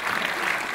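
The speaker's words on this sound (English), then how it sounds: "please, yes, full applause." An audience at a 2014 storytelling and screenwriting event bursts into full applause, a dense, steady wash of many hands clapping throughout the brief moment.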